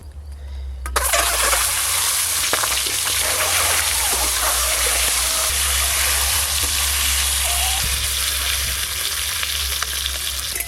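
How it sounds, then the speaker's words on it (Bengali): Mustard oil heats in a wok for frying eggs, starting from a brief quiet moment and then turning into a loud, dense, unbroken sizzle and spatter close by, with a few scraping touches underneath. "ডিমগুলো ভাজার জন্য কড়াতে সর্ষের তেল দিয়ে দেব"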